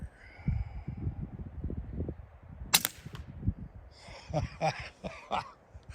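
A BCA bolt-action air rifle fires a cast bullet outdoors: one sharp, fairly quiet crack near the middle, followed by a few softer clicks and knocks of handling, all over faint background noise.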